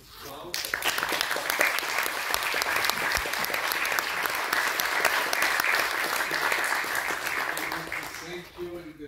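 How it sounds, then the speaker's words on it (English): Sustained audience applause at a peace and youth media panel, steady dense clapping filling the room for about nine seconds before tapering off at the end. "Please give them a round of applause."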